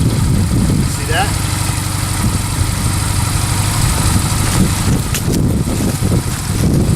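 A motorcycle engine idles steadily at close range after being started by a new rider, a low, constant rumble lasting several seconds while someone talks over it.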